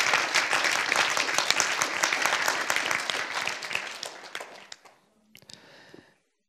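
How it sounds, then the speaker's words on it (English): Church audience applauding, a dense burst of clapping that holds for several seconds, then fades out and leaves a few scattered claps and faint noise at the end. "Let's give a round of applause for you."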